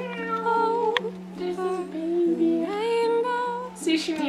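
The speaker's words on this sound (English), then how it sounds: "See, she meows like a girl." A cat meows in drawn-out, wavering cries right up close, over a steady low background drone, with a brief higher squeak at the end.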